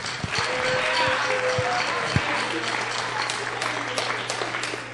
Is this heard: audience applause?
yes